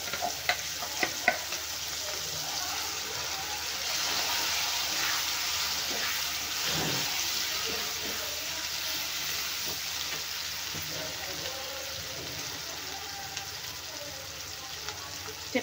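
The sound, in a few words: pumpkin chutney frying and being stirred in a pan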